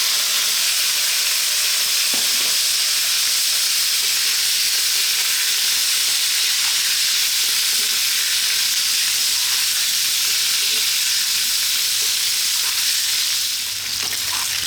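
Parboiled potatoes fry loudly in a hot pan for a potato coconut milk curry, a dense continuous sizzle and hiss with occasional soft scrapes from constant stirring, close and steady throughout.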